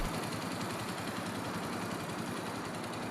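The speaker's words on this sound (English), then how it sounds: "A 250cc bike can easily roll at walking speed without stalling." A 250cc motorcycle engine putters steadily at low revs while the bike rolls along at walking speed in first gear, a continuous even drone heard close with no talking.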